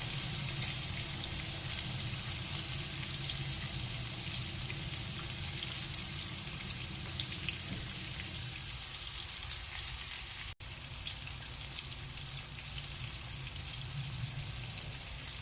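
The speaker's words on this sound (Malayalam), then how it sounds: "അങ്ങനെ നമുക്കിത് ഇങ്ങനെ എന്നിട്ട് വറുത്തെടുക്കാം" Prawns frying in coconut oil in a pan give a steady, close sizzle and crackle that carries evenly throughout, with no talking.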